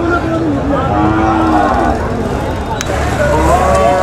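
A bull at a busy cattle market lows in long, drawn-out moos close by, over a constant crowd hubbub and passing traffic, with people talking throughout.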